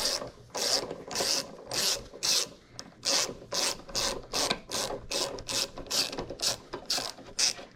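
Thread chaser being worked along a bolt's threads during an ATV repair, a regular series of about fifteen rasping, ratchet-like strokes, close and crisp, with brief pauses between them and no voices.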